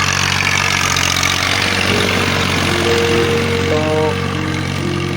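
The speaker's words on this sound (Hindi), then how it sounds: "कैसे ये ज़मीन से हल बोए जा रहे हैं ट्रैक्टर की मदद से।" A tractor ploughs farmland, its engine droning steadily and close throughout with a low rumbling idle-like chug and a few rising tonal whines near the end.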